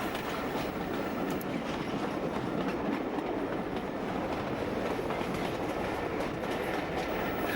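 A train on the Great Central Railway rumbles steadily along the rails with a constant, dense roar and faint clickety-clack, heard from on board, with no talking.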